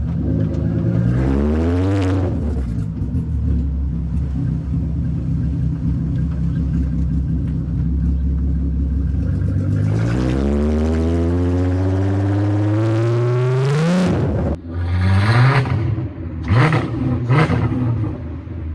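A VW Caddy MK1 fitted with a 3.2 VR6 engine revs hard, rising and falling through several loud, sweeping pulls with a steady rumble beneath, then a few short sharp blips near the end.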